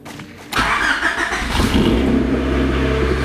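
A 1989 Honda CRX engine cranks briefly, catches and settles into a loud, steady idle that is close and continuous, with no talking over it.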